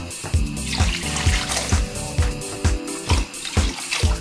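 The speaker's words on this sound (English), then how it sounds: "we're now going to add 4 pints of water to the mutton curry" Water is poured into a pot of Caribbean mutton curry, a loud continuous splashing gush with irregular surges, close and without talk.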